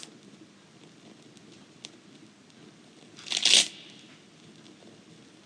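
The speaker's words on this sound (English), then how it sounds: "Leg chopped off." A short wet crunch and tearing squelch of a leg being chopped off, a gore sound effect, bursts out once, sharp and close, standing alone against quiet background hiss.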